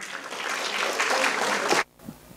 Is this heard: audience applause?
yes